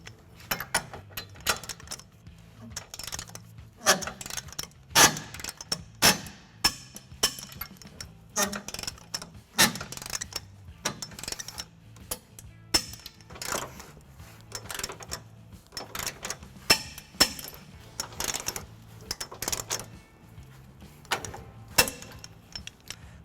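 A 19mm socket on a 5-inch extension tightens and torques hitch bolts while a U-Haul trailer hitch is installed on a 2018 Toyota Tacoma, with irregular sharp metallic clicks and ratcheting bursts, close up and without talk.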